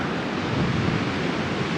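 Waves of the Baltic Sea break on a very windy day off the Usedom peninsula, a continuous loud wash of surf mixed with heavy wind buffeting, with no voices.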